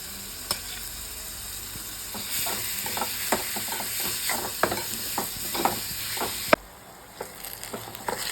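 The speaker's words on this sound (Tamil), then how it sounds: "சொரைக்காய் நல்லா வசங்கி வருது." Grated bottle gourd frying with onions in a pan: a steady hissing sizzle punctuated by many sharp spatula taps and scrapes, with a brief drop in the sizzle before stirring resumes.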